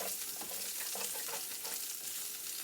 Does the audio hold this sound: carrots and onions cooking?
yes